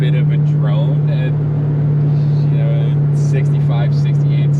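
A constant low exhaust drone hums inside a 1988 Ford LTD Crown Victoria with a 5-speed at about 65 to 68 mph, steady and loud throughout, with someone talking over it.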